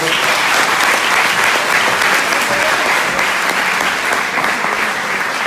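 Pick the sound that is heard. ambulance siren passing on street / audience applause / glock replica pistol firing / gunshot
audience applause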